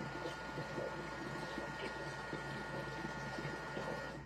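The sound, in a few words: Thermomix mixing cream at speed 4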